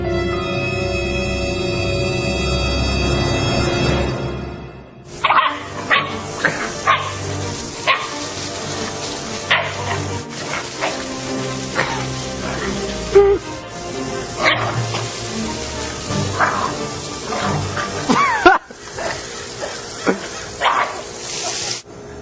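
A dog barks, yips and whimpers at a garden hose, with a loud hiss of spraying water at first, then a busy run of sharp, close barks scattered over several seconds.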